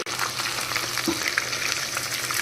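Pieces of crispy basket chicken frying in hot oil, a loud, continuous crackling bubble of frying up close, with a faint clink partway through.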